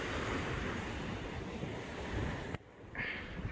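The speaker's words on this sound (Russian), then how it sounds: "Тут волна разыгралась, все больше и больше накатывает, я смотрю, на пляже." Ocean waves rolling onto the beach at Mirissa, Sri Lanka, a steady loud surf roar with heavy wind buffeting the microphone, briefly dipping near the end before the wash returns.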